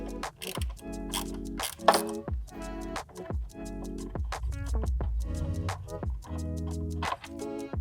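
Hand tools working a T25 Torx screw in a BMW S54 engine bay, giving rapid ratcheting clicks and metallic scraping in a steady, busy rhythm close to the microphone.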